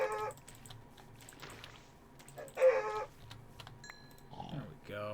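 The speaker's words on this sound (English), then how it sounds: "Ooh, chickens." Chickens cluck in short scattered bursts within the video game Blightfall, moderately close over a busy low game-ambience bed, with no talking.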